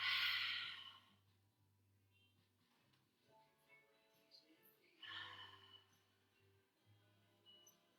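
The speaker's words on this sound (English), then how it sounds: "take some big inhales through your nose and big open mouth exhales here" Big breaths during a yoga session: a loud open-mouth exhale at the start and another around five seconds in, with quieter nasal inhales and faint background hum between.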